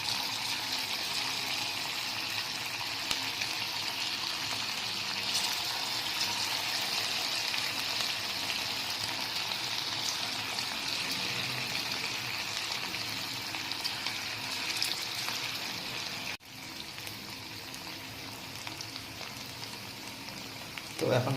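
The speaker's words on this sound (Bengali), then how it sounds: "তো এখন ফ্রাই হচ্ছে এগুলো" Chicken pakoras deep fry in a pan of oil, giving a loud, continuous bubbling sizzle that holds steady throughout with only a brief dip near the end.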